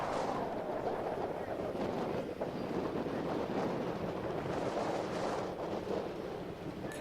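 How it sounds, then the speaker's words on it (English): Strong wind sweeps across a rugby field at a sevens championship, a steady, gusty rumble buffeting the microphone, with faint commentary underneath. "very windy day"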